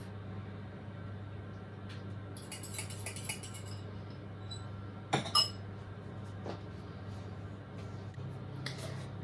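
Caramel apple cake batter is being mixed in a bowl: quiet scraping strokes, a few brief bursts of utensil scraping and sharp clinks against the bowl, all at low volume with no speech.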